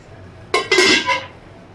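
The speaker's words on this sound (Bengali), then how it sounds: "এবার জলটা দিয়ে আমি আবার একটু ঢাকা দিয়ে দিচ্ছি" A lid set down on a cooking pan after water is added to a ridge gourd dish, a brief metallic clatter and clink close by, then quiet.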